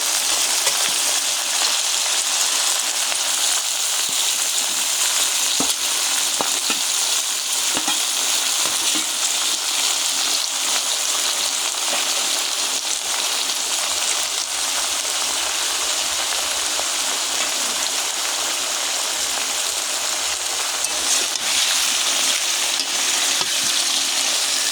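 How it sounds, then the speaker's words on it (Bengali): Hilsa fish ears frying in oil in a pan, a dense, steady crackling sizzle that runs unbroken and close throughout, with no voices. "একসাথে ভেজে নেব।"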